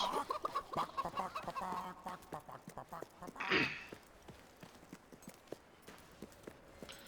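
Chickens in the video game Fable III cluck repeatedly in short, uneven bursts close by, mixed with scattered clip-clop-like footsteps and a brief louder squawk partway through.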